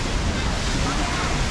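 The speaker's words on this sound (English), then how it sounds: "We have a water fountain right here." A water fountain splashes at a busy shopping mall in Malaysia, giving a dense, steady rushing wash of falling water that fills the short stretch alone.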